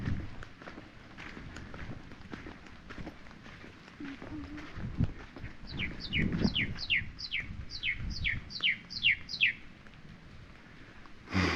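A bird sings from a distance, a run of about eight repeated bright descending notes in a steady rhythm, heard over footsteps and a voice talking nearby.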